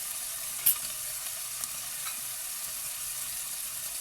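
Butter sizzling in a pan while cooking a Ramadan dish, a steady faint hiss heard close by with one brief clink near the start, no voices.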